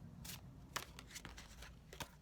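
Forest Tarot cards being shuffled by hand in a quiet room: a few soft, papery riffles and slides in brief bursts, close and gentle, with no talking over them.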